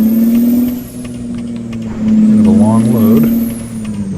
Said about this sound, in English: You can really hear those turbos going in this thing, though